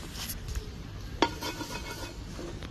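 A metal cooking pot set down on a clay earthen stove on a rooftop garden gives one quiet clunk midway, with faint scraping before and after.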